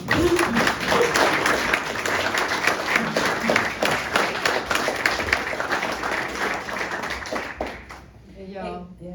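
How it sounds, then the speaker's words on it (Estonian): An audience at a literary evening honoring an author in an Estonian community house in Stockholm claps steadily and densely for about eight seconds, the applause fading at the end as a voice begins. "Ma arvan, et me teeme kõik Helgale aplausi"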